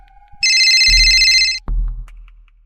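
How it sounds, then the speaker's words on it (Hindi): A loud electronic phone ringtone chimes for about a second, followed by a low thud and a brief rumble. "फोन बजा"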